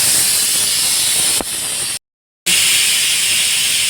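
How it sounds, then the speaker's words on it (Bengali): Steady, loud hiss of steam from a pressure cooker boiling lentils, running continuously with one brief cut to silence partway through; no voices. "তো প্রেশারে কলাই সিদ্ধ হচ্ছে"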